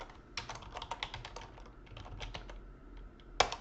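Quick, light clicks of typing on a computer keyboard come in uneven bursts, close and fairly quiet, ending with one sharper key tap, with no talking.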